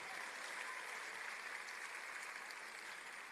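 Steady, even clapping from an audience at a tech festival in Enugu, a dense wash of hand claps holding at one moderate level throughout, with no voices over it.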